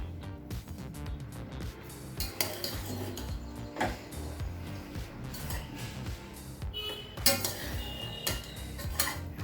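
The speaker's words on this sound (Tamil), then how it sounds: "இப்போ மெதுவாக கிளறிக்கலாம்" A spoon scrapes and clinks against the metal pot of a pressure cooker while cooked masala rice is gently turned over, with irregular knocks and clatters over a soft rustling of the rice.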